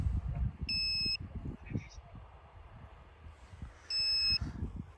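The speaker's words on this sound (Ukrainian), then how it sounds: "Чуйка постійно пікає, але нічого немає." Handheld drone detector giving short electronic beeps, one burst early and another near the end, over quiet outdoor background with someone talking at intervals.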